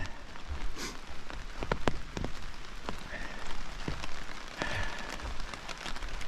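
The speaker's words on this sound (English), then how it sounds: "As you can hear, it's raining." Steady rain patters on a taut tent surface overhead during an Appalachian Trail thru-hike, with scattered louder drops tapping sharply through the constant hiss.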